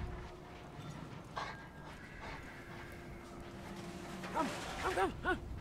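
A dog pants in the Mad Max video game, quick breathy bursts growing louder near the end over a steady engine drone and game background sound.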